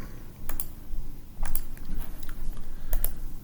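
Keys clatter on a computer keyboard in quick irregular bursts of clicks, close and fairly loud, over low room noise with no voices.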